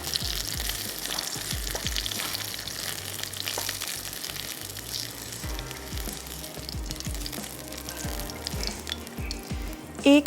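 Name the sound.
eggplant frying in oil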